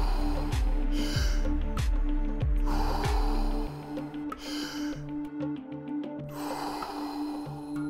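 A strong exhale sits inside a paced guided breathing round, with loud, close breath rushes over a steady background drone and no speech.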